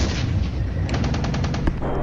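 Rapid bursts of gunfire and heavy artillery blasts from a wargame battle in a German-themed campaign, dense and continuous, with a quick double report near the end and no talk.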